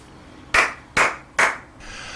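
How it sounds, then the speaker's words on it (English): Three sharp hand claps about half a second apart, close and loud against a quiet workshop room during model ship building, each with a short bright snap and quick decay. "the reason I clap is so later on when I'm editing out these two different video files, I can match them up"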